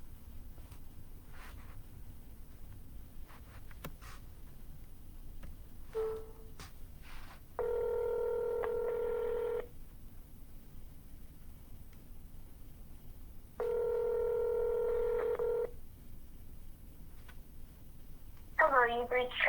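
An outgoing phone call rings back twice, each ring a steady two-second electronic tone separated by a long pause, heard faintly over light background noise during real estate cold calling.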